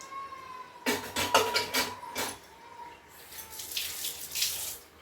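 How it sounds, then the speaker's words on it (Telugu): Water runs from a kitchen tap over a pressure cooker being washed, a steady splashing stream with clattering bursts as the pot is handled, moderately close and with no voice. "కుక్కర్ కూడా కడిగేసిన అయిపోయింది."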